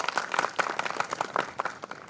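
Audience at a national radiology conference applauding a session chair, a short burst of moderately loud scattered clapping from a mid-sized crowd in a hall.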